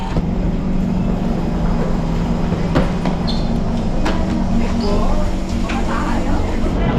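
A steady, continuous rumble of a Singapore train in motion, with occasional metallic clicks and squeals over the even roar.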